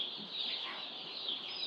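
A half box of newly arrived straight-run chicks peeping continuously, a dense chorus of high chirps, close and fairly soft.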